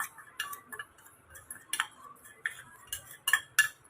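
Powdered sugar being stirred into a spiced snack mixture with a spoon gives soft, irregular clinks and scrapes against the bowl, a few sharper taps standing out, with no talking.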